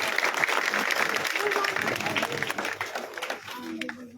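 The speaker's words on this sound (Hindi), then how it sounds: "जोरदार तालियों से स्वागत।" A crowd at a political welcome gathering claps loudly for an arriving municipal council chairman, a thick stretch of applause with voices mixed in, tapering slightly toward the end.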